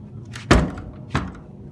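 A small wooden hut door for a red-footed tortoise enclosure bangs shut, one solid thunk followed by a second softer knock about half a second later, close by over low background rumble.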